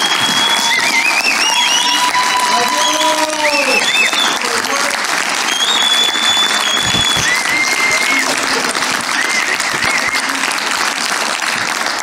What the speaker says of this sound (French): Je vous demande, s'il vous plaît, d'applaudir la famille Controverse pour la prestation.